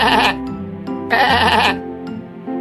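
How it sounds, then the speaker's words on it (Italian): Sheep bleating in a few wavering, nasal calls, two long bleats with short pauses between, close and fairly loud. "Pecora."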